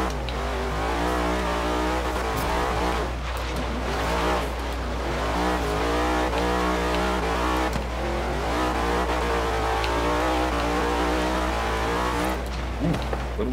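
A pickup truck in the Forza Horizon 3 racing game climbs a mountain road, its engine droning loudly and constantly with shifting revs. A voice talks over it throughout.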